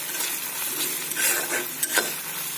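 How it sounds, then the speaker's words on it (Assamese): Ginger and garlic fry in a pan with a steady close sizzle, broken by a few sharper scrapes and clicks as the mixture is stirred, with no talking. "আদা নহৰুখিনি ৰঙচুৱা হোৱালৈকে ভাজি থাকিব"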